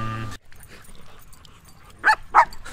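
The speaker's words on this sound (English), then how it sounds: "Little dog." Small dog barking, a sound effect from a sample pack: two short, sharp yaps close together near the end after a quiet stretch.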